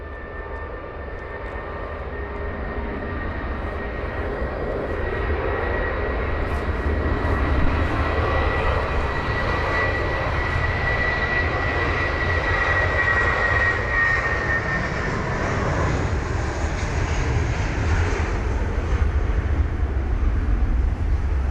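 An airliner departing London Heathrow in wet, windy weather, its engines swelling into a loud, sustained roar with a spray-like hiss and a high whine, steady and alone for over twenty seconds.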